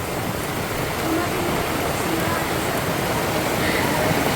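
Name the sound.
heavy rain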